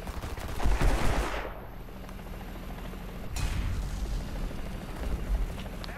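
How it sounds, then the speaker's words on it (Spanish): Gunfire striking a Leclerc tank in War Thunder, a burst of impacts and shots followed by a second heavy hit a few seconds later, rumbling and fairly loud without speech. "Siguen disparándome desde ahí el fondo."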